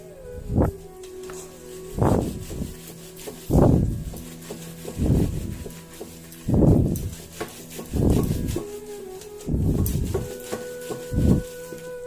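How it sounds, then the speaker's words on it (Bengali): Palm fruit seed rubbed firmly by hand to extract its pulp, giving a series of about ten rhythmic rasping strokes roughly a second apart, close and fairly loud, with a faint steady hum behind. "সমানে ঘষতে হবে যতক্ষণ না আটিটা আস্তে আস্তে সাদাটে ভাব ধারণ করবে।"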